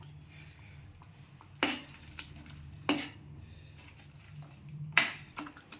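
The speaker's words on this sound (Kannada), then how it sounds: "ಇವಾಗ ಮಿಕ್ಸ್ ಮಾಡ್ತಿದ್ದೀನಿ." Boiled peas are stirred in a pan for paneer peas masala: several sharp metallic scrapes and clinks of a spoon against the pan at irregular intervals over a quiet background.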